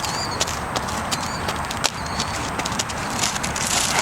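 A horse named Wheelz walking calmly beside a handler on the first day of training, hooves giving soft, irregular clip-clop taps under a steady hiss of ambient noise.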